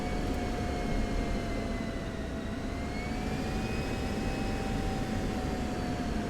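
An F-16C jet engine in the DCS flight simulator, taxiing as power is added: a steady, close roar with a high whine that rises slightly and holds, with no speech.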